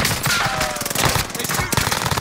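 Rapid bursts of automatic gunfire in a shooter video game, loud and continuous with dense rattling shots throughout, with no talking.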